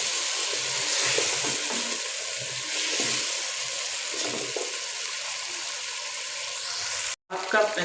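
Biryani masala and spices fry in a pan for dum chicken biryani, giving a steady, close sizzling hiss with occasional stirring scrapes, briefly cut off near the end.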